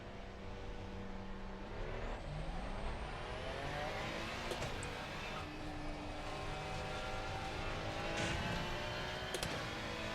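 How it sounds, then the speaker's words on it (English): A race car engine in the Assetto Corsa Competizione racing game drones steadily and loudly, its pitch rising and falling slightly with throttle, with no talking. "Start the engine."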